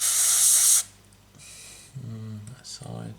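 An airbrush sprays camouflage paint onto a Me 109 scale model, a loud hissing burst under a second long followed by shorter softer puffs, with a voice speaking between them.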